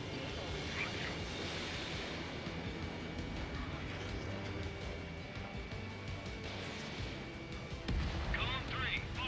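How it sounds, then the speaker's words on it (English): Explosions and gunfire in the Ace Combat 7 video game sound as a dense, continuous rumble with muffled blasts and a heavier burst near the end, with voices talking over it. "Pretty explosions."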